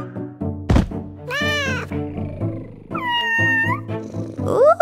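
Cartoonish cat meows in the video game Super Granny 6, several distinct mewing calls interspersed with thunks and game sound effects, close and clear.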